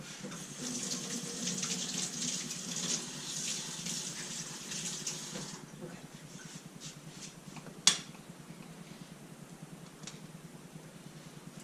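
Water from a kitchen tap runs steadily into a sink for a rinse, then shuts off about halfway through, followed by a short sharp clatter and quiet handling sounds.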